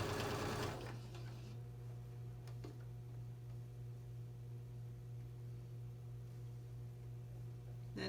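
A sewing machine runs at a slow, steady hum while stitching a pillowcase seam, a faint, continuous whir heard close, with a brief louder burst at the start and no speech.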